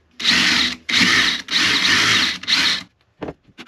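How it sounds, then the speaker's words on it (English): A reamer widens the end pin hole in a handmade parlor guitar with four long, loud rasping grinding strokes, followed by a few short, quieter bursts. "now I just have to use the reamer to both widen that hole and give it a little bit of a wedge"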